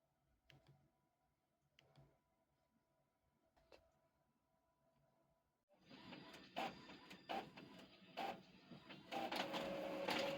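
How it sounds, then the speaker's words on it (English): A printer is printing flyers. Faint clicks come first, then the mechanism starts up with a loud, busy whirring and clattering that builds as the pages feed through. "Alright, so I'm going to start printing."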